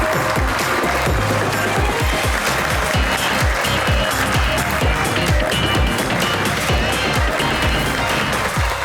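A studio audience claps through applause welcoming guests Rida Naqqash and Ducky Bhai onto the talk show Suno To Sahi, a dense, steady, loud wash of clapping with no talk.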